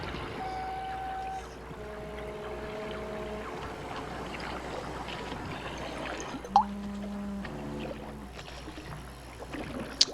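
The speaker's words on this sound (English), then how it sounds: "so they come over on a boat" A boat moving across water in a film scene, with a steady low hum and faint watery wash throughout, tonal musical lines layered over it and a brief sharp knock near the end.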